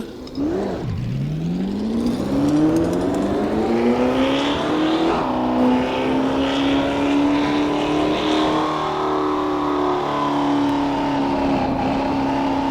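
An old car's engine revs hard and accelerates, its pitch sweeping upward, dipping, then climbing again into a loud, sustained whine close by with no talking.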